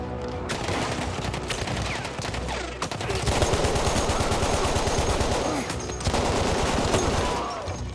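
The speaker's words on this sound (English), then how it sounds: "Oh, shotgun." Heavy gunfire in a Battlefield 1 battle, with a shotgun among the weapons: dense, continuous volleys of close shots and bursts with no pause, loud throughout the clip.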